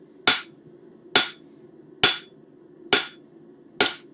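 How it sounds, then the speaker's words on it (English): Five evenly spaced, sharp hammer blows ring out on metal while the back plate of a bird feeder hanger is shaped, each strike crisp and bright with a short decay over a steady low hum. "We want a nice, consistent, and very precise hammer blow for this."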